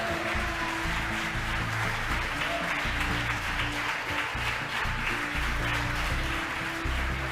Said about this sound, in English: As you can tell behind me, the folks that watched the mission cheering